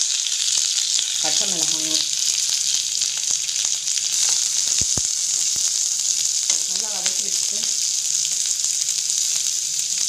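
Curry leaves, garlic, onion and green chili fry in hot sesame oil with mustard seeds, making a loud, steady hiss throughout, with a few brief spoken words over it.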